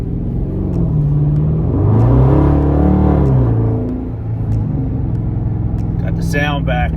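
Dodge Challenger with a mid muffler delete, its exhaust rumbling loud and close, swelling into a deep rev that rises and falls back to a steady drone, with a brief voice near the end.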